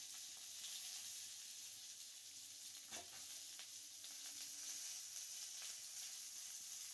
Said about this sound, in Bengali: আলুর টুকরো ও বিনস দিয়ে সবজিগুলো আমাদের কিন্তু তেলের সঙ্গে একটু হালকা করে ফ্রাই করে নিতে হবে।